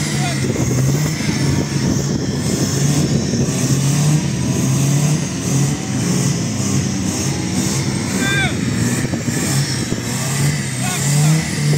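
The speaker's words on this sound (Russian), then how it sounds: "Звуки моторов." Engines of an Opel Frontera and a stuck Niva rev steadily in an off-road recovery, a continuous loud mid-pitched drone with surging throttle, voices talking over it throughout.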